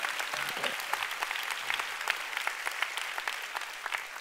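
A church congregation claps for a few seconds, a continuous crowd of hand claps at moderate distance, loud and steady with a few brief voices near the start.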